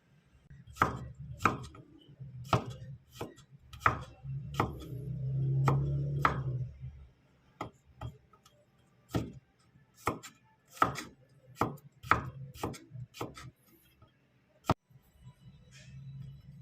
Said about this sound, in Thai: พริกหั่นเป็นชิ้นๆครับ